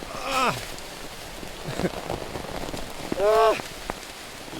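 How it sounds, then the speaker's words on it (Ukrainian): Steady rain patters down over a forest in Ukraine with a dense wash of drops, while bird calls and a brief murmur stand out above it. "Фух, дощ пішов капець"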